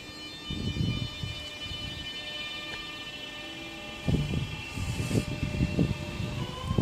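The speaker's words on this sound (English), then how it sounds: "now getting ready to depart is 466011 and 465926, forming the 1625 Southeastern service from London," Southeastern class 466 and 465 electric trains depart Sole Street station, a sustained tonal motor whine over rumbling wheels, building in rhythmic bursts as they pull away.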